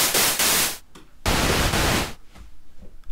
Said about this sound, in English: Quickly onto noise, white noise on the Grandmother.